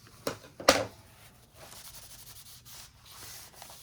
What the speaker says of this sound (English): this way I can rub it well, and if there's glue that kind of got on there, it kind of gets it off